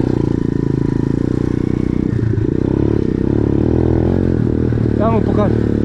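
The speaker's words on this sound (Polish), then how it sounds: "A ja pokażę Blokowi, jak się pod górkę podjeżdża, bo on nie mógł podjechać." A motorcycle engine drones steadily as the bike climbs a hill, loud and continuous, with a few rising revs near the end and occasional clatter; people talk over it.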